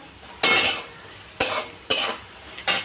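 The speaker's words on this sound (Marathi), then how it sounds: "मी इथं टाकलेलं आहे भाजायला मिरची बटाटा" Chillies and potatoes roasting in a pan for khichdi, stirred in four sharp scraping bursts with a sizzling hiss trailing each one, loud and close.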